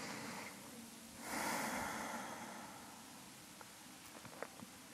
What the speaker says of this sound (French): Et on prend quelques respirations de plus ici.